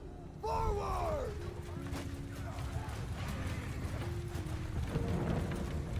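Cavalry horses in a video game, a steady patter of many hooves moving together, close and continuous, with a brief whinny near the start and someone talking over the clatter.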